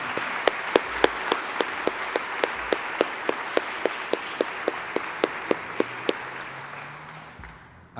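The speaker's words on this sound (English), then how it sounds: "Let's give them one more round of applause." An audience at the NJIT scholarship brunch applauds student speakers Jennifer and Dominic. The applause is steady and moderately loud, with a few sharp, close handclaps repeating at a regular pace above it before it tapers off at the end.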